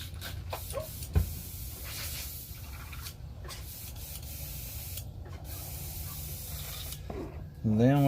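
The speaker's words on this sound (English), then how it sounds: "I'll clean out my airbrush real quick." An airbrush being cleaned out between paint colors while painting a black crappie fishing lure, giving a steady spraying hiss over several seconds with short bursts of blowing, and a voice speaks briefly near the end.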